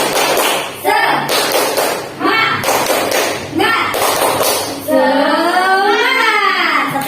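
Fourth-grade primary school students clap the rhythmic tepuk semangat spirit clap in a classroom, loud patterned bursts of claps and thumps mixed with children chanting, ending in a sustained group shout.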